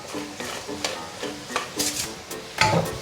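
Radish being stir-fried in a pan with peanut butter, soy sauce, pepper, sugar and salt, a spatula scraping and tossing in a steady rhythm over a soft sizzle, close and clear.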